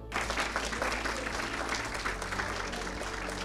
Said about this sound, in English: Again, a spirited applause by all of you.